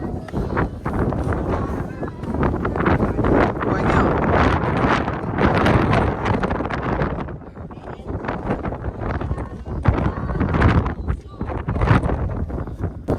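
Strong wind roars and buffets the microphone continuously, with talking partly audible underneath.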